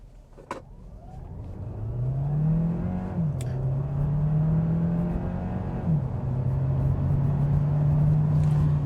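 A 2025 Hyundai Tucson Hybrid accelerates hard with a steady, rising engine drone that climbs in pitch and dips briefly twice as it shifts. The tone holds loud and close throughout, with no talking.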